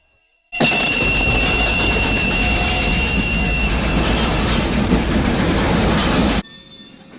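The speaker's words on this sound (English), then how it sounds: "This is all brutally interrupted by the screeching of an incoming train." Screeching incoming train in Once Upon a Time in the West, a loud, sustained metallic wheel squeal over heavy rumbling rail noise that starts abruptly, holds steady for about six seconds, then cuts off.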